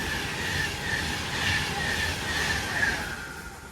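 Pendolino express train passing through Poynton station, a steady rushing rumble of wheels on rail carrying a sustained high-pitched whine, heard alone at moderate distance for the full length.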